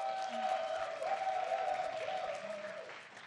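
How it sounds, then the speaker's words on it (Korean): A crowd at a drama production press event applauds for a few seconds with a dense, steady wash of clapping. A presenter's voice carries faintly through it. "박수 부탁드립니다, 여러분"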